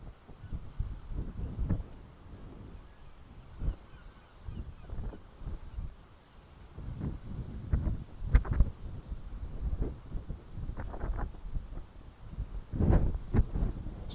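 Wind buffeting the microphone while fishing at sea: gusty low rumbles and thumps come and go irregularly, with occasional sharper bumps, close and fairly loud throughout.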